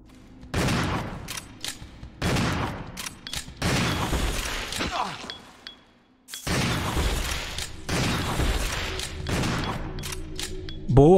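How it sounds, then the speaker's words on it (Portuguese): Shotgun blasts in Resident Evil 0 come in a rapid series of loud, booming, full-bodied bursts separated by brief pauses, with mechanical clacks between shots and a short silence midway. "A shotgun acho que é uma boa, pera aí."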